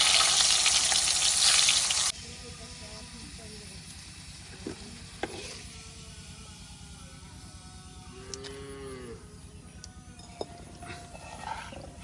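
Homemade potato chips fry in hot oil, making a loud, bright sizzle that cuts off sharply after about two seconds, leaving quiet kitchen background with a few faint knocks and a voice.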